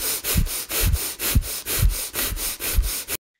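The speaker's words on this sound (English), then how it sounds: "And my belly's moving in and out, and it's a breath through the nose" Breath of fire: rapid, forceful rhythmic nasal breathing, about seven sharp close-up sniffing pulses in three seconds, loud and even, ending abruptly.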